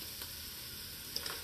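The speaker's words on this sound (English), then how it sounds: "So we're going to just put the diced tomatoes in." Diced tomatoes go into a pot of keto Italian meatball soup, giving a brief soft sizzle and splash with a couple of small clicks, no talk.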